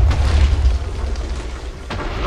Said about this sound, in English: Oh, look at that explosion.